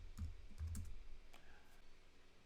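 Brief burst of computer keyboard typing as a short terminal command goes in while deploying with Ansible: a few quick, close clicks in the first second, then quiet room tone.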